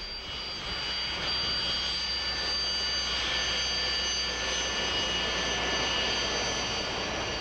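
A Sukhoi Su-25 Frogfoot attack jet's engines roar steadily, a loud sustained whine with broadband rumble that holds level throughout.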